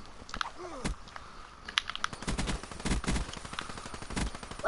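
Video game gunfire, a rapid scatter of sharp shots and bursts at close range, uneven in rhythm, with clicky keyboard-like taps mixed in.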